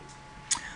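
A single mouse click sets off a Revit render, a short, sharp tick in an otherwise quiet room that stands out clearly against low background hiss.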